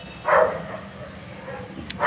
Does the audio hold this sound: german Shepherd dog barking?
yes